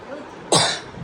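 A single short, raspy cough, close and abrupt, rising out of quiet room tone and fading quickly.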